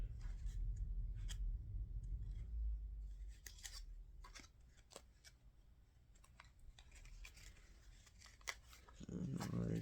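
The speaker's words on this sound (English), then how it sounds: "Let's shuffle up these cards again." Tarot cards being shuffled up close, a run of crisp papery flicks and riffles at a quiet level with soft handling noise and a low hum beneath.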